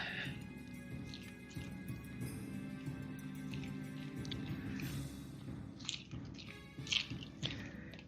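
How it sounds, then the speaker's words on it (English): Biscuits and gravy thickened with flour are stirred in a pan, giving soft, wet squishing and faint dripping sounds, quiet and close against a low background hum. "So, just gonna stir that."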